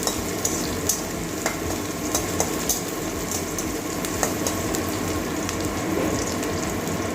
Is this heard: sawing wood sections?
no